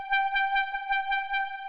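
Lo-fi house synth with a simple FM patch run through a chorus effect, a steady sustained tone with a slight watery wobble and soft low pulses beneath it, playing alone.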